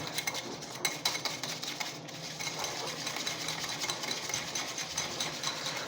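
Rapid, steady scraping and clicking of a spoon whisking instant coffee and sugar into a thick dalgona mixture in a cup, continuous and close, with no voices.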